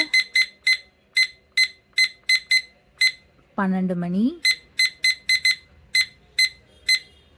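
A study timer app on a phone sounds its alarm as a rapid string of sharp, bright electronic beeps in quick clusters. A voice speaks briefly in the middle while the beeping stops, then the beeping resumes.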